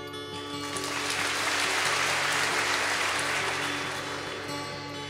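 Dense audience clapping fills a Sydney Opera House concert hall in Australia, swelling and holding steady at full strength, with faint sustained tones underneath.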